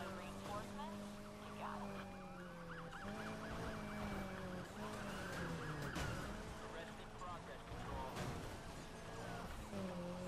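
Police car sirens wail and overlap in the Need for Speed Heat racing game during a pursuit, steady and continuous over engine and road noise, while someone talks excitedly over them.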